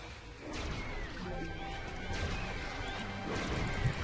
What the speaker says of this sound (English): He just jumps up and smashes with his feet on this one